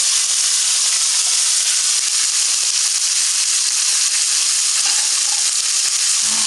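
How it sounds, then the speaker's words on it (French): Tilapia fillet and shallots fry in a hot pan, a loud continuous sizzling hiss close up that stays dense and unbroken throughout, no talking. "Comme il a grillé comme ça, je mets mes échalotes."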